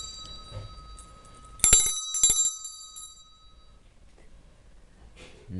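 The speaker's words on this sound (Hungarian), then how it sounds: "beszereltettem ide csengőt," An emergency call bell fitted beside a bed rings with bright metallic tones in two short bursts, loud and close, then fades out, leaving quiet room noise.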